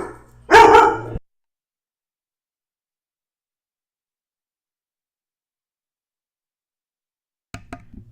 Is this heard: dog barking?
yes